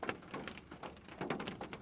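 Steady rain falls on a road, a dense, even patter of drops that stays soft and continuous throughout, with no voices.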